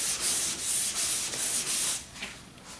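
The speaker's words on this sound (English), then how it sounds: "it looks like that's sanding out pretty nice." Sanding 2K primer on the body of a 1977 Camaro Z28 makes a close, steady abrasive rubbing in rhythmic back-and-forth strokes, about six passes and then a lighter scuff, with no talk.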